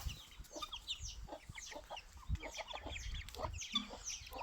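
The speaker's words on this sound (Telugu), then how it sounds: "చూడండి అవి వచ్చేసి గిరిరాజ కోళ్ళు చూడండి" Giriraja chickens cluck and squawk in a flock, close, repeated short calls overlapping one another, fairly quiet.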